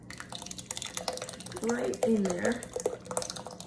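A warm blend of heated cream, sour cream, butter and cream cheese is poured into a slow cooker of white chicken chili, giving soft wet splashing and dripping at close range while a person speaks briefly.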